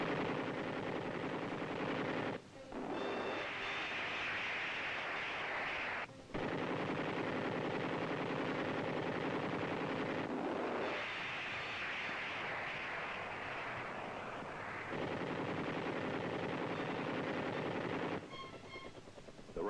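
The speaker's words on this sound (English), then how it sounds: "enemy positions below are fired upon by our gunners" Army helicopter gunners fire a machine gun at enemy positions below, long rattling bursts broken by short pauses over the constant roar of the aircraft, with a crackly, old-film sound.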